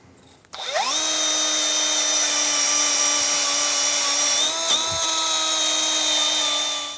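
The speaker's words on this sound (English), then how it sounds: "I'm going to use a wire brush and clean all inside of here and clean the face of this" A power wire brush spins up sharply and runs at a steady high whine while cleaning the wheel hub knuckle of a 2003-2007 Infiniti G35. It stays loud and close, with a brief dip in pitch midway and no talking.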